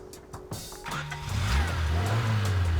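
A car engine starts with a few clicks and a crank, then catches and revs, its low rumble building into a loud, steady drone that holds to the end, with no talk over it.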